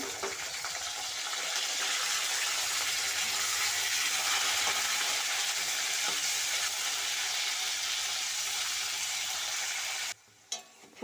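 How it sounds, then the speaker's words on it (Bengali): Loud, continuous sizzling of cauliflower frying in hot oil, close up, ending abruptly with a brief clatter. "এবার ফুলকপিগুলো ভেজে নেব"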